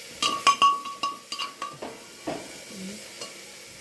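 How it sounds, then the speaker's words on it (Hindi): Peas and potatoes are stirred in a frying pan for matar pulao, with a spoon clinking and scraping against the metal in a quick series of knocks that slows down, over a faint sizzle. "अब इनको अच्छे से मिला दूँगी मैं।"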